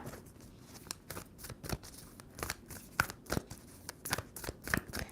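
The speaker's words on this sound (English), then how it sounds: "Two more shuffles." Tarot cards are shuffled by hand up close, a quiet run of crisp riffling snaps and soft papery rustles in uneven bursts, with no talking.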